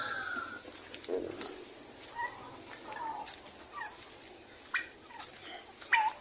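Turkeys gobble and chickens cluck in scattered calls at moderate distance on a small farm, over a steady background hiss with occasional clicks.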